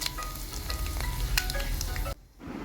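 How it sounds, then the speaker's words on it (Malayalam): Mustard seeds sizzle and crackle in hot coconut oil for a homemade pickle, a close, dense frying hiss peppered with sharp pops, cutting off abruptly near the end. "കടുക് പൊട്ടട്ടെ, ഇട്ടോട്ട്."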